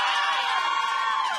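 A crowd on the sideline of a women's rugby championship match cheers and whoops together, loud and close, in one brief continuous burst.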